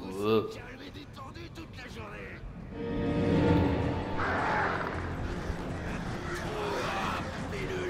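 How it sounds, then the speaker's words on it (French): A crow cawing in a dark lakeside lodge setting of a horror action game, harsh calls emerging midway beneath someone talking in French over it. "non, il est corbeau."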